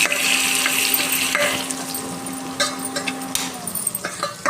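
A spoon scrapes and stirs coriander powder into a frying masala in a pan, giving a soft continuous sizzle with irregular scraping knocks toward the end, close and alone without talk.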